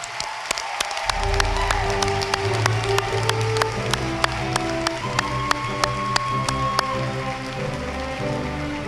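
Audience at a 2024 spring commencement ceremony for a School of Sport, Tourism, and Hospitality Management applauding, a dense steady patter of clapping with sharp individual claps and a low hum of crowd noise, no talk.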